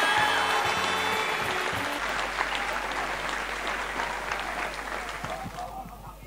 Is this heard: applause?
yes